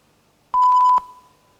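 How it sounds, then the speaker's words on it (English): A single electronic timer beep at a business case competition presentation, a steady tone lasting about half a second, with a faint ringing tail and no other sound. "With 5 minutes left for the presentation, the teams will hear the beep once."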